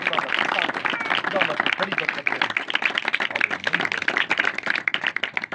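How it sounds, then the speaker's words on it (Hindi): A church congregation claps loudly and steadily at a Christian worship gathering. The dense, continuous applause is mixed with crowd voices throughout. "यीशु के साथ पैचअप के लिए एक बार जरा जोरदार तालियां।"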